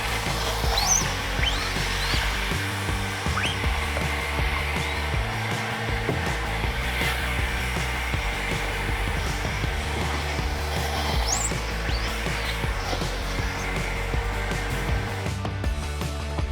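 A multicolor screen printing press runs its vacuum table, a steady loud blower-like whir holding evenly throughout with faint mechanical clicks beneath.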